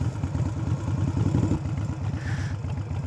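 Motorcycle engine in a parking lot as the rider eases off the throttle, a steady rapid low putter pulsing close and loud throughout, with no talk.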